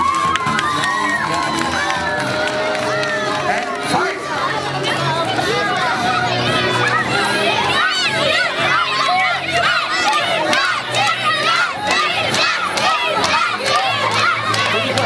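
At a kermes fair in Schorndorf, a dense crowd cheers, shouts and calls out in a loud, continuous mass of overlapping voices, with individual yells rising above the din.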